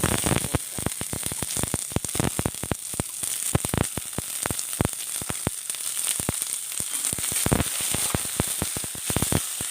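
Chopped onion frying with curry leaves and chillies in a pan sizzles steadily and close by, with dense crackling pops throughout and no voices.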